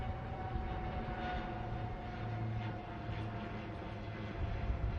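Indian Navy aircraft formation flying past above the Miramar seafront in Panaji, Goa, during a naval fly past, a loud, steady engine roar that holds throughout with no voices.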